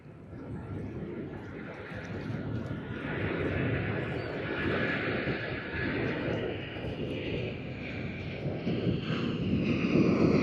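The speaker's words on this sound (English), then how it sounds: "We have the departure of Air Asia D7223 flight to Kuala Lumpur on its Airbus" An Air Asia Airbus A330-300 departing Sydney Airport for Kuala Lumpur makes a broad jet roar that builds gradually and swells louder toward the end, with a touch of wind noise.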